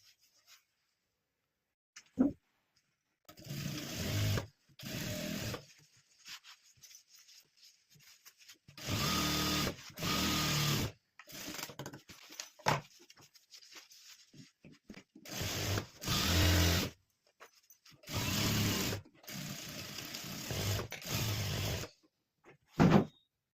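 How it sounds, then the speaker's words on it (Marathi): A sewing machine stitches half-inch seams along both sides of a fabric piece in repeated loud bursts of whirring, separated by brief pauses, with no talk. "दोन्ही साईडनी तर आपल्याला अर्धा अर्धा इंच अशी टिपा मारून घ्यायची आहे दोन्ही साईडनी"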